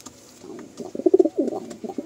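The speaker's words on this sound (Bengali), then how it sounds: "ম্যাড্রাসি পায়রা, জাস্ট 4টে পেয়ার পায়রা দিয়ে ভাইয়ের পায়রাবাজি শুরু হচ্ছে" Madrasi pigeons cooing in a loft, a string of low, throaty coos that grow louder and more frequent toward the end, close by with no talking.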